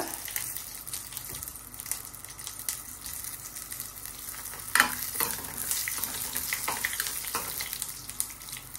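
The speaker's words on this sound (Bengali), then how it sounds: "এখন এই যে ডালটা সম্বার দিব, দিয়ে দিলাম জিরা, শুকনো মরিচ আর তেজপাতা" Cumin seeds, dried chilli and bay leaf hit hot oil for a dal tempering, giving a soft, steady sizzle with light stirring clatter and a brief louder crackle midway, fairly quiet and free of speech.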